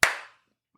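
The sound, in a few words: hands clapping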